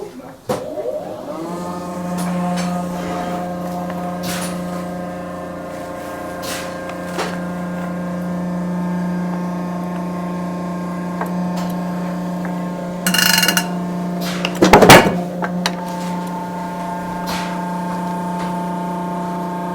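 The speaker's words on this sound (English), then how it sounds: "we use these two clicker machines behind me, and I will do that right now" Clicker machines die-cut fabric flower stems in a workshop, a steady loud mechanical hum with tonal drone running throughout, broken by a sharp press thump near the end, with talk faintly underneath.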